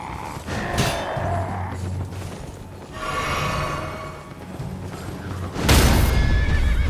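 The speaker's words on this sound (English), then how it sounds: "Don't hit the horse." A horse in the video game Elden Ring whinnies loudly several times amid a busy game soundscape with hoof clops and dull thuds.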